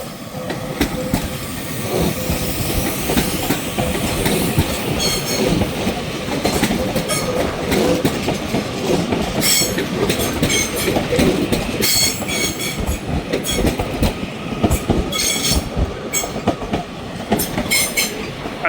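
Two Class 331 electric multiple units pass at Manchester Piccadilly station with a loud, sustained rumble, rhythmic clickety-clack of wheels over rail joints and occasional high squeals, heard close up throughout.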